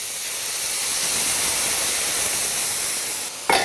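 Sauce base poured over mushrooms in a hot pan gives a steady, loud steaming hiss that holds for several seconds before a sudden sharp burst of sizzle at the end.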